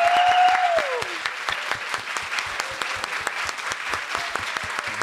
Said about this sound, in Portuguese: Também recebam com muitos aplausos,